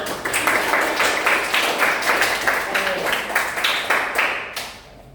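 Students in a classroom give a round of applause at the end of a presentation. Dense, lively clapping from a group runs steadily for several seconds before tapering off.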